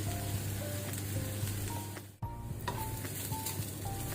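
Onions and curry leaves frying in hot oil, a steady, even sizzle with one brief dip near the middle, then faint stirring clicks as the sizzle carries on.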